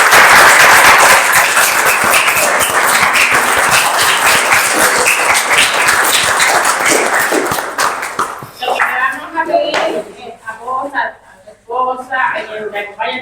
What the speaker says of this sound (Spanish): yo lo que propongo también es un fuerte aplauso al profe